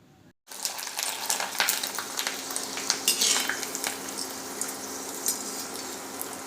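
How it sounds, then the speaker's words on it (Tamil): Sago papad (javvarisi vadam) fries in hot oil, giving a steady crackling sizzle with scattered metallic clinks of a utensil against the pan throughout, close and moderately loud, with no talking. "ஸோ இதை நம்ம பொரித்து பார்க்கலாம்."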